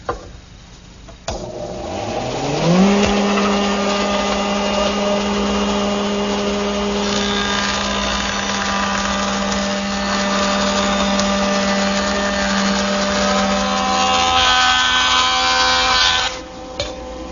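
A router fitted with a 3/8 inch radius coving bit shapes the edge of a wooden piece. The motor spins up, then holds a loud, steady, close whine for about twelve seconds while cutting before it winds down.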